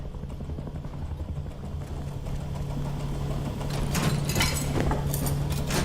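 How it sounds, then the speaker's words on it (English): A helicopter in the game Rust drones steadily in the distance behind a low engine-like rumble, swelling slightly louder toward the end with faint clicks over it. "Is that a helicopter I can hear?"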